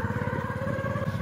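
A motorcycle speeding along at high revs, its engine a loud, steady low throb that holds for the whole moment with no other sounds over it.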